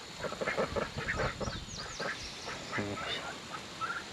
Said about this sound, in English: Next, we're gonna talk about these turkeys, these ducks.